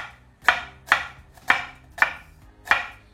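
Five sharp knife chops cut an onion on a board, each crisp strike spaced roughly half a second apart, close and clear over a quiet background with no talking.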